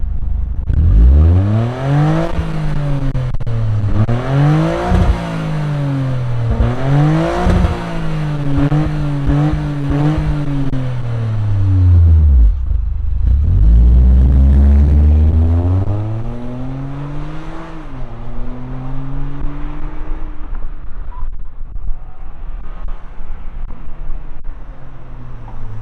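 A 2025 Toyota GR Corolla engine with automatic transmission starts and revs loudly again and again, pitch climbing and falling in sharp sweeps, close and unaccompanied by speech.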